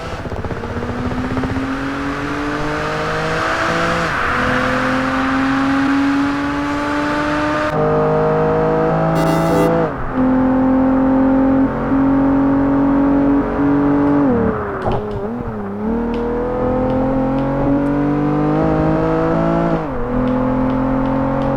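Race car engine in a Project Gotham Racing 4 replay, a loud sustained harmonic drone that rises and falls through gear shifts, with brief dips and surges around the middle and continuous revving throughout.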